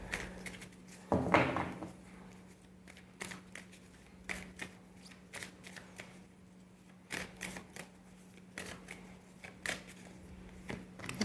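Tarot cards are shuffled with one brief riffle burst near the start, followed by scattered soft card taps and handling sounds against a steady low hum.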